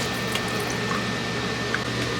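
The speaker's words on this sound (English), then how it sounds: "We added a new sink faucet so that I can have sprayability." Water sprays steadily from a new sink faucet sprayer aboard a sailboat, a continuous close hiss and splash with no voices.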